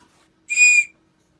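A survival keychain whistle gives one short, loud, piercing shrill blast lasting under half a second, alone against near silence.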